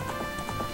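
A horse gallops in Zelda: Ocarina of Time, its quick hoofbeats clip-clopping in a brisk rhythm, fairly soft and steady throughout.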